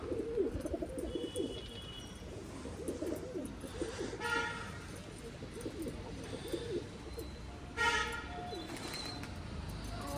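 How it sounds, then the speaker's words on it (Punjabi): Pigeons coo softly in repeated low burbling phrases, with a couple of brief higher tones from distant horns in the background. "ਆ ਸਾਰੇ ਕਬੂਤਰ ਆ"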